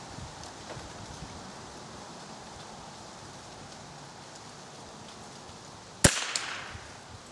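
A single sharp report from a Marlin XT-22 .22 rifle fired at a target cracks out near the end, after a stretch of soft outdoor ambience, followed by a short ringing decay.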